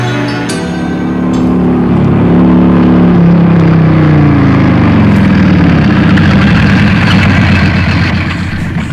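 A motorcycle engine idles loudly nearby, its steady low putter briefly rising in pitch before settling back to an even rumble.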